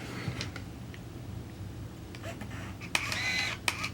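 An Olympus Stylus 105 compact camera fires its shutter with no flash, a quick mechanical click with a short whirring motor, heard close up.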